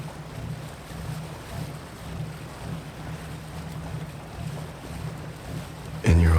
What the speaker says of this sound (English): the hum of the steamboat beneath you